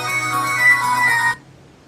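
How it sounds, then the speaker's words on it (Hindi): Phone ringtone in a Pakistani TV drama, a loud electronic melodic tone that plays steadily, then cuts off abruptly near the end, leaving near silence. "रविशा, कब से तुम्हें फोन लगा रही हूँ, मेरा फोन ही नहीं उठाती हो तुम"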